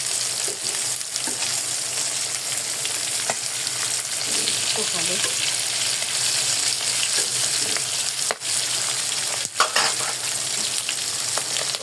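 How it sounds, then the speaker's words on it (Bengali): Hilsa fish frying in a pan gives a steady, dense sizzle throughout, close and fairly loud, with a few brief stirring knocks and scrapes. "এই যে মাছটি হচ্ছে ভাজা আবার হয়ে গেছে মাছ ভাজা শেষ"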